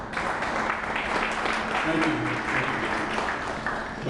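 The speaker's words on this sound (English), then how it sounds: "give a round of applause for this young man, Richard Van Dyke, for actually shepherding" Applause from an audience at a wall of fame honoring event, a steady dense patter of clapping filling the room with faint talk mixed underneath.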